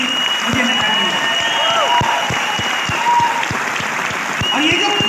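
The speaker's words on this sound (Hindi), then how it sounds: "मैं चाहता हूं कि एक बार उन लोगों के लिए स्पेशल तालियां हो जाए" An audience at an indoor talk applauds with dense, continuous clapping throughout. Sharp individual claps stand out from the mass, and a voice talks over the ovation.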